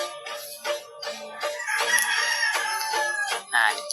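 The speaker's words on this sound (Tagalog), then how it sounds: "Hanip talaga mga manok ito." Chickens cluck and a rooster crows repeatedly at night, close and fairly loud, with overlapping calls from several birds and no talking.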